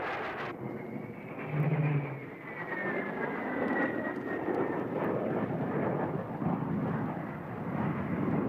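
Military jet aircraft from carriers during NATO war games in Norway pass overhead, a loud sustained engine roar with a whining tone sliding slowly downward as the plane moves away.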